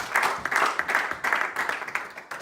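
A church congregation applauds and cheers the Lord, steady rhythmic clapping mixed with raised voices filling the room for the whole stretch, fairly loud and continuous.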